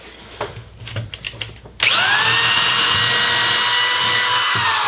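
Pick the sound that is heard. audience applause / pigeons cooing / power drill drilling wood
power drill drilling wood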